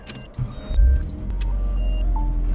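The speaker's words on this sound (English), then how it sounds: "Alright, we're in the car." Inside a car, a thump and rustle give way to a steady low engine hum and road rumble as it pulls away, with a brief mechanical whir like a power window.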